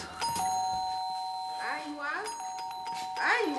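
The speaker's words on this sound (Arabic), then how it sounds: "مين اللي بيخبط الجرس بالطريقه المزعجه دي؟" Electronic doorbell chiming repeatedly inside a home in an Egyptian TV comedy, clear sustained ding-dong tones pressed several times in an insistent pattern, with voices talking over the ringing.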